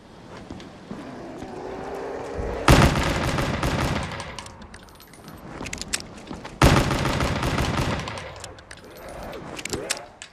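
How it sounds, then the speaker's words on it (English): Bursts of gunfire in Black Ops 3 Zombies, two loud volleys of rapid shots standing out over a steady game soundscape of clatter and ambient noise. "Now I can use my pistol."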